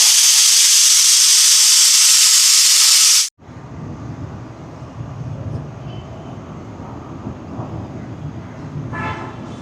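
A pressure cooker cooking mutton releases a loud, steady rush of hissing steam for about three seconds, then it cuts off abruptly, leaving a low background rumble with faint clatter.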